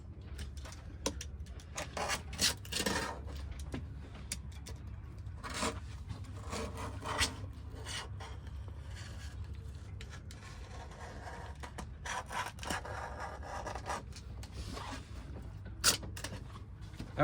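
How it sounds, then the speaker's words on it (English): A blade scoring around the perimeter of a teak deck seat on a Beneteau 311 near the gel coat, heard as quiet repeated rasping and rubbing strokes in irregular bursts over a low background hum, no talk. "start by just scoring the perimeter of the piece here, trying not to scrape into the gel coat too badly"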